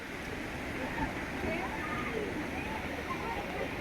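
A constant roar of falling water at Amboli waterfall fills the scene, steady and dense, with indistinct voices mixed underneath.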